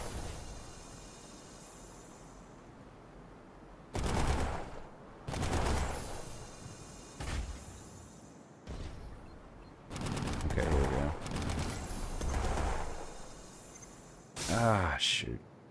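Gunfire in the mech video game Armored Core, repeated loud bursts of automatic fire in separate volleys between quieter stretches, with a voice talking over parts of it.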